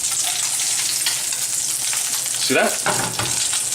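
Crab cakes searing in a hot pan just after being flipped: a loud, dense, continuous sizzle and crackle up close, with a few spoken words partway through.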